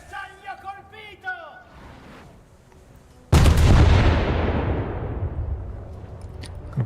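A warship's main guns fire a salvo in a naval battle game: after a stretch of speech and game sounds, one sudden massive boom erupts and rolls off into a long, fading rumble.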